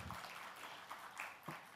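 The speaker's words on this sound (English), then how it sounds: "Please give Mr. Vaidyanathan a big round of applause." Applause from a business event audience for a bank executive, a steady broadband patter of many hands clapping at moderate level, brief and continuous without talk.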